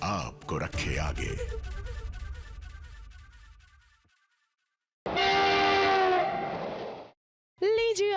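A train horn sound effect opens a Hindi entertainment news segment with rushing train noise and clattering, then a long, loud harmonic horn blast and a brief final toot.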